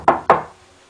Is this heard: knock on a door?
yes